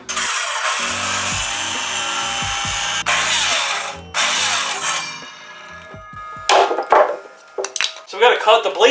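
A dull power saw cutting lumber for a homemade low-profile car ramp, with long sustained bursts of loud grinding broken by short pauses and rough scraping toward the end.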